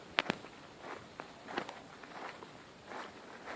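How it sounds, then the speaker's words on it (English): Footsteps crunching on a dry lawn parched by heatwave and drought: a few crisp, crackly steps close by, each with a brittle crunch, and no one talking. "it sounds like you're walking on Rice Krispies"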